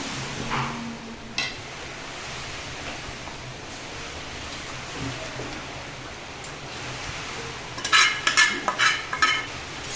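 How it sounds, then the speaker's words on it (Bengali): Masala frying and being stirred in a pan on a gas stove for khichuri, a steady low sizzle with a few louder scraping and clinking bursts near the end, no voices. "মশলাটা একটু ভালো করে একটু কষিয়ে নেবো"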